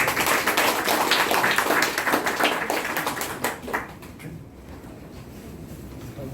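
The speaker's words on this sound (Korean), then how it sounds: "큰 박수 치고 마치겠습니다" A room full of people at a book talk claps in steady applause that gradually thins out and fades to scattered claps and quiet.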